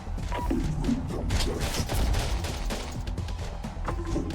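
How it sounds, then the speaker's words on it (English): Dense video game combat with rapid bursts of gunfire, thumps and booms that include a rocket-propelled grenade launch, continuous and moderately loud throughout. "RPG firing!"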